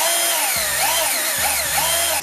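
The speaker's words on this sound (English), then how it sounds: "you'll be seeing me using this drill." A WORX SwitchDriver cordless drill whirs loudly and steadily in an office, its motor pitch stepping up and down in short bursts as the trigger is squeezed and eased, with no talking.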